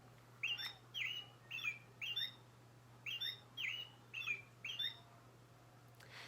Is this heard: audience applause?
no